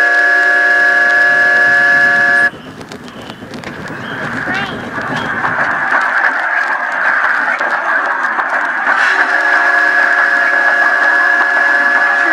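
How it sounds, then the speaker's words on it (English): A train whistle sounds as a train approaches: a loud, steady, multi-toned blast for about two seconds. Rumbling noise follows, then a second long, sustained whistle blast near the end. "What's that sound? The whistle. That's right. That means the train is coming."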